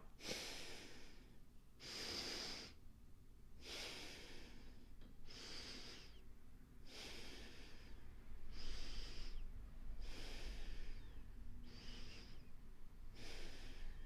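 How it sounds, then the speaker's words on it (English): Slow, deep breaths in and out during a calming finger-breathing exercise, about ten soft, airy puffs in a steady rhythm, close and alone with no talk. "you breathe in and out with your fingers like this"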